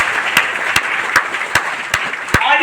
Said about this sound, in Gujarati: તો આ ટીમ વિઝન 11 ના લીડરો માટે એકવાર જબરદસ્ત તાળી થવી જોઈએ સાહેબ.